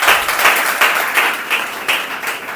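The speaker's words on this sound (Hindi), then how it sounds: "एक बार जोरदार तालियां।" A classroom of students applauds loudly, a dense steady clapping that holds at full strength for a couple of seconds with no voices over it.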